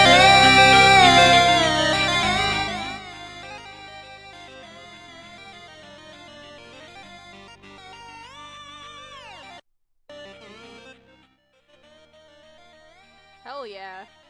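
Homestuck music, loud and full at the start, then settling into a quieter melodic line with sustained tones, breaking off briefly near the end before a short final swell.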